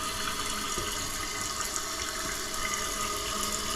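Water runs steadily into a toilet tank after the fill valve has been opened up, a constant hissing rush of filling water that stays close and even throughout, with no voices.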